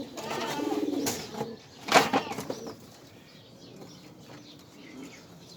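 Caged pigeons, newly caught, give soft low cooing calls with a burst of wing flapping midway, close and moderately loud before fading to quiet background.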